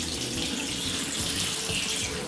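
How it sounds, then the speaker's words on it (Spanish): Cold tap water gushes steadily into a kitchen sink and over a Magefesa pressure cooker, a loud, continuous splashing hiss that stays close and unbroken, with no talking. "la vamos a enfriar en la fregadera para que la presión se libere rápidamente."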